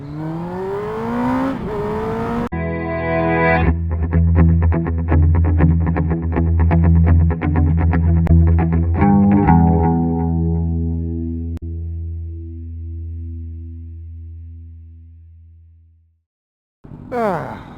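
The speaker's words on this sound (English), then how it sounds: "The lovely quietness of a V4 factory Tuono. Beautiful noise." A loud, close Aprilia Tuono Factory V4 motorcycle engine revs hard through several rising bursts with a growling, crackling exhaust, then fades out before a brief new sound at the end.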